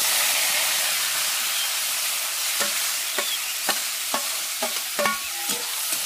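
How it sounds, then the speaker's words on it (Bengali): Marinated green tomato stir-frying in a pan, a strong, even sizzle and hiss throughout, joined in the second half by a run of distinct spoon scrapes and taps against the pan, close and without talk. "এরপর এটা খুব ভালো করে আমি নাড়াচাড়া করে রান্নাটা করে নিচ্ছি"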